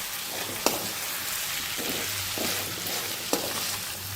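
Homemade 1990s-style chicken fry sizzles continuously in a pan, with a spoon stirring and scraping through it and a couple of sharp clinks against the metal, close up and without talk.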